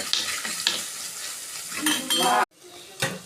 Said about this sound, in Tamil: இப்போ பூண்டுங்க வதங்கட்டும்.